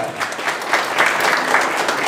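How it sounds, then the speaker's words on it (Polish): Wedding guests give the bride and groom a dense, sustained round of applause before the couple's first dance, a steady wash of many hands clapping without audible talk. "wielkie brawa dla pary młodej na zachętę"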